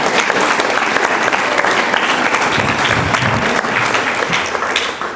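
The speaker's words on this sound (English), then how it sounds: "If you guys will give them a round of applause for coming out here for their time" A school baseball media day audience of players and parents gives a loud, steady round of applause, dense clapping from a nearby crowd that holds for several seconds before easing slightly at the end.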